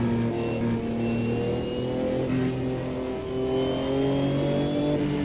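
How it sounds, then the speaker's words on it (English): A race car engine in the Automobilista 2 racing game holds a steady, loud, continuous drone with layered harmonic tones that rise and fall gently as the revs shift, with no talking over it. "You can all hear the car all right,"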